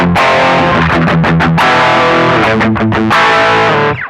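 An electric guitar plays a chugging riff through a hard-clipping distortion pedal, heavy and gritty, loud and saturated, with short choppy pauses between chords.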